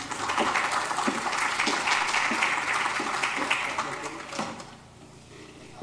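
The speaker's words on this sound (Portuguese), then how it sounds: "Senhoras e senhores, um aplauso para Romana Borja Santos" Audience applause for a speaker introduced at a Portuguese conference panel on financing, innovation and technology, dense steady clapping that thins out and fades near the end.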